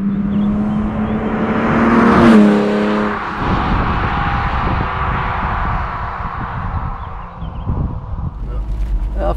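A 1980 BMW M1 sports car drives along, its engine rising and falling in a steady near drone with wind noise, while people talk inside.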